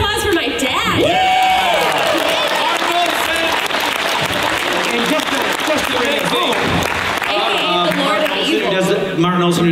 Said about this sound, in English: Give a round of applause for my dad.